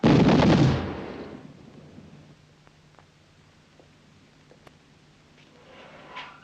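A firing squad's volley rings out as one loud, sharp blast that rumbles briefly and then fades into quiet room tone with faint rustling.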